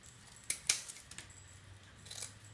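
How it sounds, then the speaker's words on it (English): Scissors snipping through plaster strips for a 6th-grade Egyptian face project, with two quiet crisp snips close together near the start and faint rustling of the strips afterward, no talking. "you simply cut the strips"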